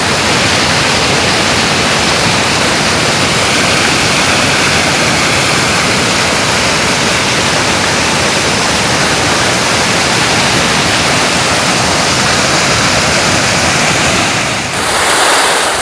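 Icy, snow-fed river in the Himalayan Sarthal Valley rushes loudly and continuously close by, a dense steady roar of flowing water throughout.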